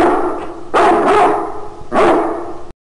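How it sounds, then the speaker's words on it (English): A dog barks in two loud, sustained bursts with a rough, throaty tone, close by and alone, with a quieter bark before them. "Dog."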